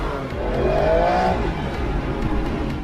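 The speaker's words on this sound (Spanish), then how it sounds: "Un ruido que se ve intensificado con el escape único de los Aston." An Aston Martin Vantage engine roars loud and steady through its distinctive exhaust, with a rising whine swelling briefly before settling back into a constant drone.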